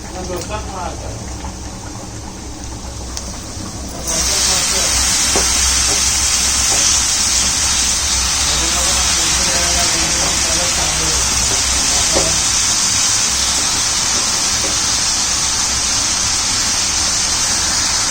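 Chopped fenugreek leaves (methi) sizzling in a hot pan, the loud broadband hiss jumping up after a few seconds and holding steady, with faint stirring under it.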